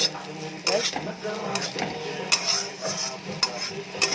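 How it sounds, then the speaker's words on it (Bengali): Eggplant bhaji fries in a wok as turmeric is stirred in, a soft sizzle under repeated metal spatula scrapes and clinks against the pan, close and fairly quiet. "একটু করে হলুদ দিয়ে ভেজে নামিয়ে দিব"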